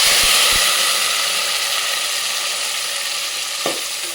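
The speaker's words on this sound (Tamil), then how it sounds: "தாளிச்சிடலாம். நல்லா வதங்கி வரணும்." Onions, tomatoes and curry leaves fry with mustard seeds in hot oil for a Mutta Kalan Kulambu, giving a loud, steady sizzle with a few light stirring knocks near the start and end.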